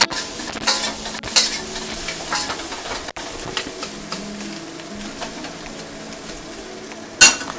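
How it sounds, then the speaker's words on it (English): Crispy kimchi bacon fried rice is tossed and stirred in a hot wok, with a soft sizzle beneath scraping and light clanks of a spatula against metal and a sharp clatter near the end. "I'm going to go ahead and add my rice back to the wok here. And then what we're going to do is give it a quick toss"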